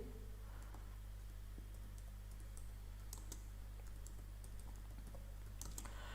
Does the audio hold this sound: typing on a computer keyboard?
yes